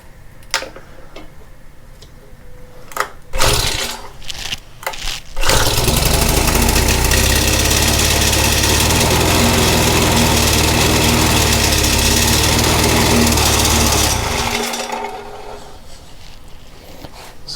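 A Honda FG100 tiller with a dirty carburetor sputters through a few failed pull-start attempts, then catches and runs loudly and steadily for about nine seconds before shutting down.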